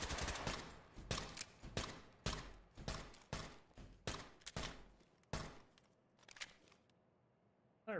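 Video game gunfire rings out in short, close single shots and small bursts at an uneven pace, loud and sharp, then trails into quiet near the end.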